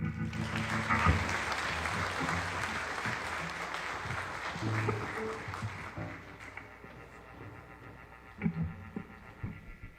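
Audience applause for a performer introduced at an anniversary celebration event, a steady broad wash of clapping that holds for several seconds, thins toward the end, and gives way to music beginning underneath.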